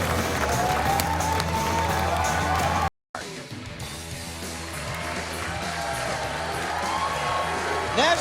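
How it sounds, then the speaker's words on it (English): A large crowd at a professional bowling championship in the National Bowling Stadium roars, whoops and applauds continuously, with a brief cut to silence partway before the cheering resumes and swells. "the appreciative crowd cheering on Gary and the winner, Faulkner Jr., over E.J. Tackett"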